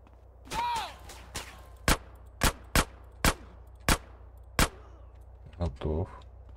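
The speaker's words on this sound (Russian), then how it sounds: "Так, откройте дверь склада выстрелом" Six sharp gunshots ring out at irregular intervals in GTA San Andreas Definitive Edition, loud and close, after a brief burst of electronic noise and before a muffled clatter, shooting open a warehouse door.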